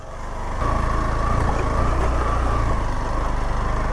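A Hero Xpulse 200 motorcycle engine runs steadily just after a water crossing, a close, even low-pitched idle hum that swells slightly in the first half-second and then holds constant, with no talking.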